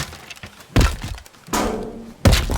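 Castle walls crumble in the video game Teardown, with three separate heavy thunks and crashes of breaking debris spaced apart over low rumbling between them.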